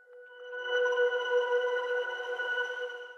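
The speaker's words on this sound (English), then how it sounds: "Basically just a lot of grain delay and grain reverb." Spirit Sweeper synth sample drenched in grain delay and grain reverb, a sustained shimmering tone with stacked harmonics that swells in and holds steadily for about three seconds, alone without talk.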